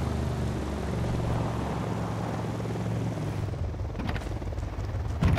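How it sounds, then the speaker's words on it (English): Helicopter in a military video game, with a steady rotor drone and low engine hum that carries on throughout, joined near the end by a rapid chopping beat as it draws closer. "Yep, you got a chopper coming in north."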